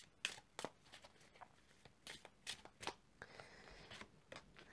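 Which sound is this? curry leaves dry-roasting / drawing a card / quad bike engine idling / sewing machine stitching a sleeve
drawing a card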